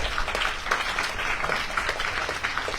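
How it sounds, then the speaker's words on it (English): Audience applause at a Bhagavata-saptaha lecture, a steady wash of many hands clapping continuously and fairly loud throughout, with no speech over it. "Applause loudly."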